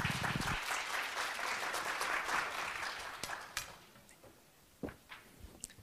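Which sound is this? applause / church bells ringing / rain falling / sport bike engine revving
applause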